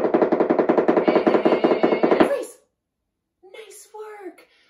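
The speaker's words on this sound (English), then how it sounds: "make a little drum roll, make a little noise" A fast, loud drum roll of rapid, even strikes runs for a couple of seconds and stops sharply, followed by silence and then a voice speaking.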